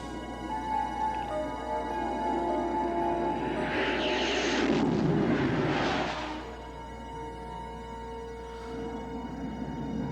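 A jet aircraft flies low in Quantum Leap, its roar swelling to a loud, rushing peak over a couple of seconds before fading back into a steady low hum.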